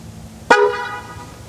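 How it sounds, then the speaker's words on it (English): A Ford Maverick pickup gives one short, sharp honk of its horn, loud and close, ringing out briefly against a quiet background. "And then it just honks or something."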